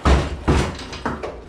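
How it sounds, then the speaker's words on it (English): Door of a 1951 Ford Shoebox rat rod being fitted into the body, three or four heavy metallic thumps and knocks in an uneven rhythm, loud and close. "let's see if we can't at least get this door in here."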